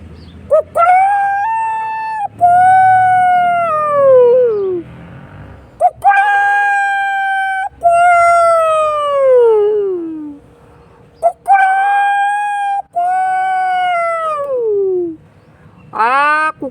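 A dog howls in several long, drawn-out wails that rise and then slide downward, separated by short pauses, loud and close.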